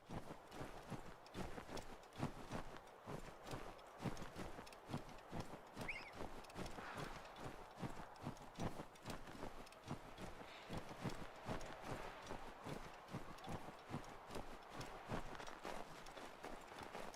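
Steady, rapid hoof clip-clops of a horse trotting in the game Assassin's Creed III, evenly paced and fairly close, continuing without pause; no talking.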